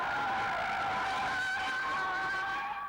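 A 1999 sports car with a sports exhaust skids through a progressive, controlled slide, its tires squealing in a loud, steady, wavering howl that holds for about three seconds.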